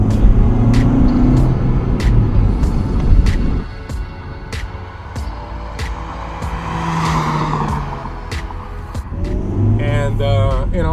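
Honda Integra Type R with a Spec 2000 engine swap, heard from inside the car while driving, engine note rising and falling under the driver's voice, with a brief squeal near the end.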